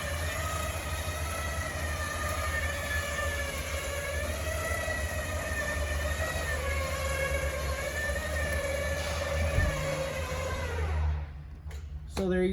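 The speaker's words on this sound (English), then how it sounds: "you're gonna hear the motors wind up and quit" Slide-out motors on a 2023 Coachmen Prism 24FSC RV give a steady, close mechanical whine with a low hum beneath, holding evenly for about eleven seconds before abruptly winding down and cutting off.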